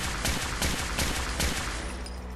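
Rapid-fire shots from a modded gun in Fallout 4, a steady fast rhythm of loud, close reports that tails off at the end.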